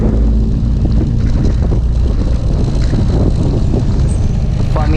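A Family Raya Gaspol jet bus passes on a bypass road near Solo, Indonesia, producing a loud, steady roar of engine and road noise with wind buffeting throughout.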